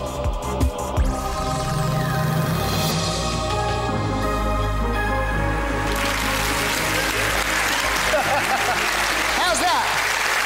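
Studio audience on a Saturday evening game show applauds in a broad, steady wash of clapping that fills the room, sustained and loud throughout, with a voice briefly heard near the start.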